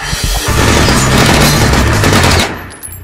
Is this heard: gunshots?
yes